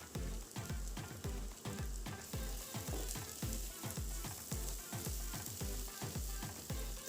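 Chopped green chilies fry in hot oil for a Bengali prawn curry, giving a close, lively sizzle with rapid regular crackling pops, as if being stirred, without voices.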